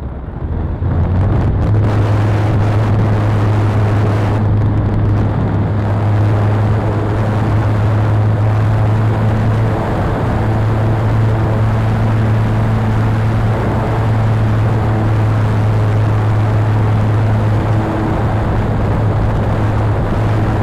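An FMS P-47 Thunderbolt RC model plane flies with a steady droning motor hum throughout, heard amid strong wind rumble on the microphone outdoors.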